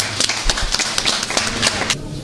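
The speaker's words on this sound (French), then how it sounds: "Applaudissez pour Assimi Goïta." Loud applause for Assimi Goïta at a formal state ceremony, a short run of dense, irregular claps that tapers off near the end.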